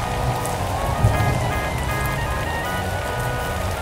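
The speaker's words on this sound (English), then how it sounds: "I didn't know acid rain was so strong" Acid rain falls steadily in a Roblox natural-disaster survival game, a dense, even patter of rain on surfaces lasting throughout, with faint tonal game sounds underneath.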